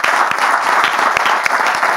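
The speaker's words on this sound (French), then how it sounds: "on peut applaudir bien fort" An audience applauds a pastor after his talk, a steady dense wash of many hands clapping together at moderate loudness with no voices over it.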